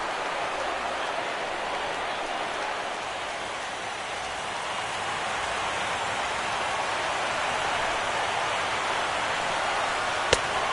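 Steady rain pours down over a baseball stadium during a World Series game between the Nationals and Royals, a dense, even hiss that holds constant throughout with no talk over it.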